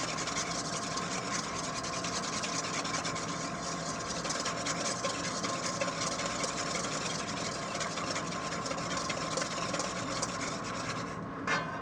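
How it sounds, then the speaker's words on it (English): A whisk beats one whole egg thoroughly in a bowl, making a close, steady, rapid scraping rhythm that continues without pause, with no voices. "We start by whisking one whole egg very thoroughly."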